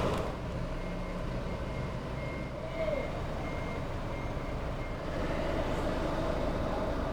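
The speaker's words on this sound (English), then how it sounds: "Now the last vehicles are coming in." Vehicles roll onto the car deck of a ferry, a low steady rumble of engines filling the enclosed space, with a faint high tone rising now and then, no talk.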